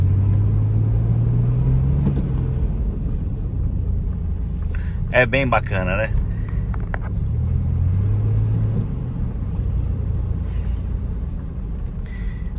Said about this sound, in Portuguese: eu vou fazer um takezinho só do V6 roncando para vocês terem uma experiência mais imersiva aqui do que é o barulho desse carro